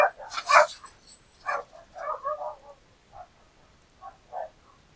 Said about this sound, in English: find out what's going on with my dog's barking